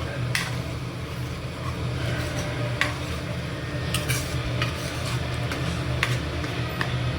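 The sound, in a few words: stirring sabzi with Kashmiri chilli in a pan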